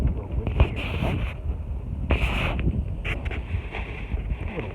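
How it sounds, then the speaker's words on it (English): Gusty wind buffets the microphone on a balcony garden at night, with a steady low rumble and occasional louder bursts, fairly close and continuous throughout. "a little windy here tonight."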